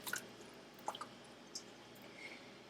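Chicken feet drop a few at a time into a pot of boiling water, giving soft wet plops and small splashes spaced out over a quiet background, with no one talking.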